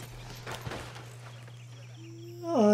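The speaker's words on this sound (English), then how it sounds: "Oh, this is a horse." Horse hooves clip-clop in Red Dead Redemption 2, a soft walking rhythm under a steady background hum, followed near the end by a brief rising tonal sound.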